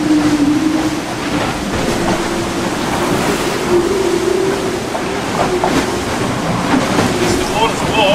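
A speedboat races across open water, a continuous roar of engine and rushing spray with a faint engine whine, steady and fairly close throughout.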